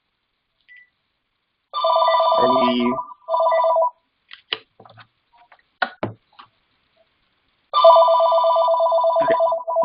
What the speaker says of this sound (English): Somebody's phone is ringing in the background.